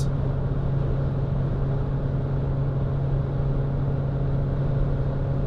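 An Opel Grandland X with a turbo petrol engine accelerates uphill at about 140 km/h, a constant loud drone of engine and road noise heard from inside the cabin with no talk.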